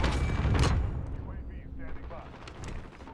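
Gunfire from an automatic gun in Call of Duty: Modern Warfare, loud bursts early on that thin into scattered background shots and mechanical clatter, with a voice talking over parts of it.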